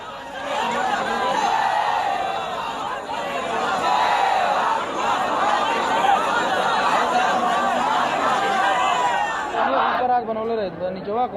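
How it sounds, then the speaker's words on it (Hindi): A large crowd shouting slogans together at a gathering, a continuous loud roar of voices rising and falling for several seconds before thinning out. "पाकिस्तान मुर्दाबाद के नारे वहां लगे।"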